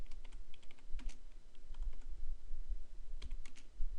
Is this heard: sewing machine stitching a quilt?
no